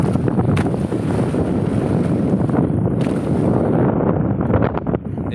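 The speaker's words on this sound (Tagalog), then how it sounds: "Lumakas na naman ang amihan mga buds. Wala nang tigil ang amihan ito. Ang lakas." A strong amihan wind blows over the sea around a small fishing boat, a loud, continuous buffeting roar with gusts against the microphone.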